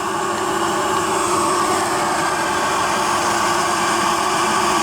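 A 1930s Carling steam turbine engine, rated 10 HP at 1800 RPM, runs with a loud, steady whirring roar and a dense, even hum that does not change from start to end.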